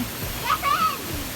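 The Chattawarin waterfall at Sungai Padi in Narathiwat, Thailand, gives a steady rushing roar of falling water, with a voice heard briefly over it.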